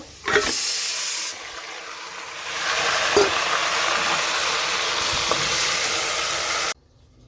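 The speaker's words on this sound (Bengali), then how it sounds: "এখানে মাটনটা কষা হচ্ছে" Mutton sizzles and hisses in a hot pan as it is fried down with ginger-garlic paste, a loud steady frying sound with a few stirring scrapes before it cuts off.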